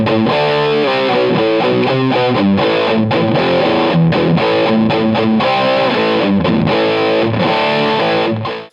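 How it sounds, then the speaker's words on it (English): Heavily distorted electric guitar through an MXR Distortion Plus pedal, playing a riff with sustained chords and single notes, loud and continuous, ending abruptly. "And finally adding the sweet MXR Distortion Plus."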